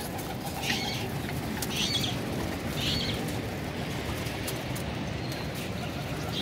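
Pigeons climbing in a net flap their wings in rustling, fluttering bursts, close by, with scattered faint coos and a steady background hiss, no voices.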